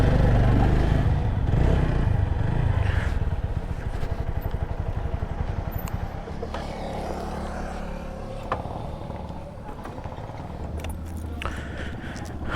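A motorcycle at a petrol pump in Chandpur, its engine idling and revving with metallic clatter and jangling nearby, fairly loud at first then easing off over several seconds.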